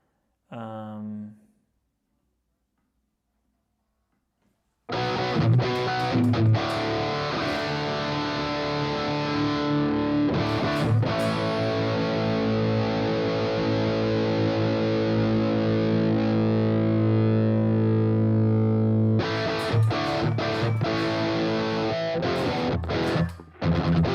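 Heavily distorted electric guitar rings out in sustained, buzzing chords after a short plucked note and a pause, then cuts off and restarts briefly.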